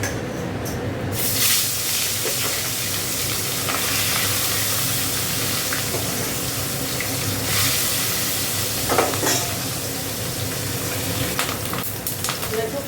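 Black cumin seeds sizzle in hot oil, giving a steady, loud, hissing fry that runs throughout with brief stirring clatters, and no talk over it.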